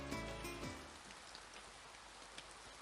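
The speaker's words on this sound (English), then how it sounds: "the rain still doesn't show any sign of stopping" Steady rain pours down outdoors, a continuous wash of patter on surfaces with a few sharper drips standing out, fairly loud and unbroken throughout.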